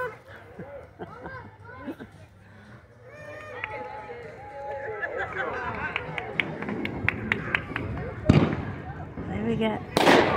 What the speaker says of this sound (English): Starting our fireworks for New Year's at Awhile Resort in Georgetown, Florida